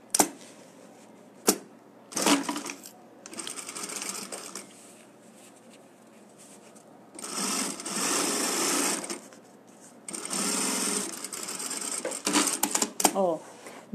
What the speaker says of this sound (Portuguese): Vou bater uma costurinha de acabamento aqui